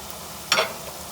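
Minced meat keema fries in a pan, heard as one short, close stirring scrape with a brief burst of sizzling over a low, steady background.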